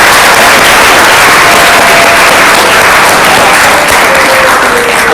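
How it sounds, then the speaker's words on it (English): A large audience gives a loud, dense round of applause, continuous clapping that holds at full strength throughout with no voices over it. "give him another round of applause"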